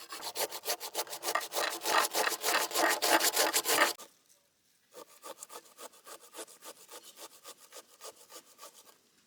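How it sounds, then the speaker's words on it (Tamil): Beetroot is grated by hand in a village kitchen, a fast run of rhythmic rasping strokes, a brief pause, then a second, slightly softer series of scrapes, close and without talk. "அதனால் பீட்ரூட் துருவி எடுத்துக்கிறோம்."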